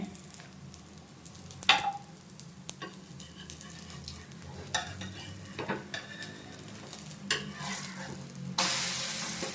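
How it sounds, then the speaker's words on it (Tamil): An omelette frying in a pan at home, steady close sizzling with repeated scraping and stirring clatters from a spatula, the hiss swelling louder toward the end. "ஆம்லெட் நல்லா வேகட்டும், அப்புறம் பார்க்கலாம்."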